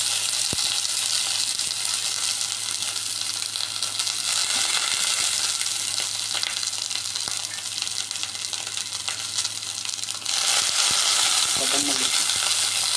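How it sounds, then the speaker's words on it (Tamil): Dried chillies and curry leaves sizzle steadily in hot oil in a pan, a continuous close, loud frying hiss that briefly softens before surging again near the end, with no talking. "காயில் எண்ணெய் விட்டாச்சு, காஞ்ச மிளகா போட்டாச்சு, கருவேப்பிலை போட்டுக்கோங்க."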